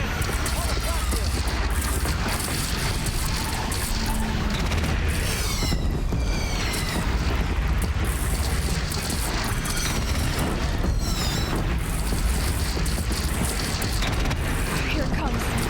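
Cannon fire booms through a Horizon Zero Dawn battle at Meridian, heavy blasts and crashes over a constant roar of combat, with shouting voices mixed in.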